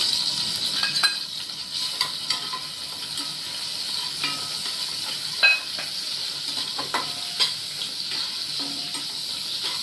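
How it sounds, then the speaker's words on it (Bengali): Prawns frying in hot oil in a kadai, a continuous close, loud sizzle with occasional sharper pops and crackles throughout. "আমি চিংড়ি মাছটা ঢেলে দেবো"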